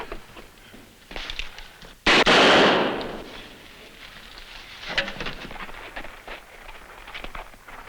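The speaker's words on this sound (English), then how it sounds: "Pistol shots come from that direction." Distant pistol shots crack out in an old Western setting: a sharp report rings out alone, followed by fainter scattered pops over quiet background noise.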